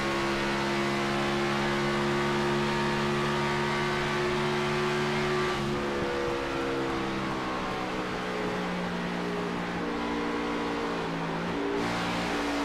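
On-board roar of a stock race car engine during an Xfinity Series race at Indianapolis, a loud continuous drone whose pitch sags midway as the driver lifts off the throttle, then settles into a steady lower note.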